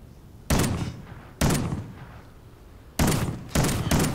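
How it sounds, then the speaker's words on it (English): Four loud, booming shotgun blasts from Call of Duty: Ghosts gameplay in an Infected match, coming at irregular intervals, each with a sharp attack and a short rumbling decay over a quiet background. "So this is a shotgun, it looks like."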